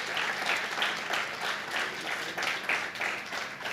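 Audience applause at an agricultural technology launch presentation in Fargo, a steady wash of many hands clapping at moderate level, with no one speaking over it.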